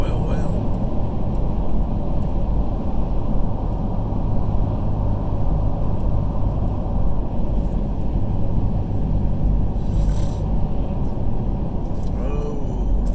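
A car drives along I-85 northbound from Georgia toward South Carolina in thick highway traffic, a loud steady road and engine rumble throughout with someone talking over it.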